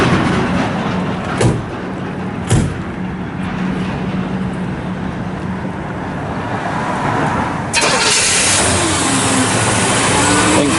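A 1965 Chevrolet Chevelle Malibu SS engine cranks with a couple of brief bursts, catches, and settles into a steady running roar that swells louder as it is revved near the end.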